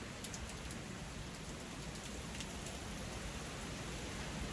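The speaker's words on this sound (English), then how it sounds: "It's raining, it's pouring," Rain falls in a faint, steady wash of hiss with no talking over it.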